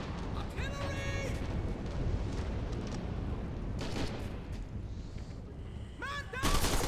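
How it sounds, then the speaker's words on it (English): Artillery fire rumbles in Red Orchestra 2: Heroes of Stalingrad, a continuous heavy booming roar of shelling and gunfire with shouted voices breaking through at moments. "Artillery!"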